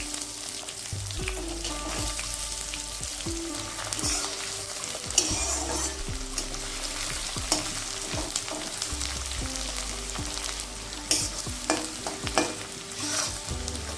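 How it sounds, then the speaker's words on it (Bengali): Chopped onions fry in a pan for chicken do pyaza, with a steady sizzle running throughout and repeated scrapes and clanks of a utensil stirring them, close and fairly loud, with no talking. "পেঁয়াজটা একটু লাল লাল করে ভেজে নেব"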